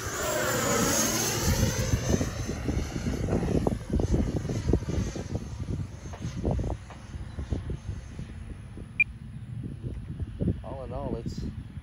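FMS 90mm Super Scorpion RC jet coming in to land, its ducted-fan whine sweeping past and fading to a lower rushing drone, close and loud at first, with wind buffeting and handling noise throughout.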